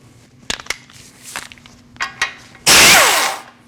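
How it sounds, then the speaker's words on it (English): A tool loosens the lower ball joint nut on a 2014-2023 Jeep Cherokee 2.4L during front CV axle replacement: a few metallic clicks and knocks, then a loud sustained burst of power-tool rattle up close. "We're going to take off this lower ball joint nut."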